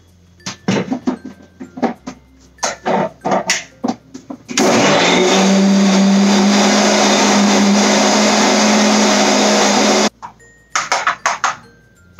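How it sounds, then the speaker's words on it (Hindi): A mixer grinder blends papaya with mint leaves and sugar, a loud steady whirring roar lasting about five seconds, framed by short clattering knocks and handling noises before and after. "इसको हम मिक्सी में डाल के ब्लेंड करेंगे।"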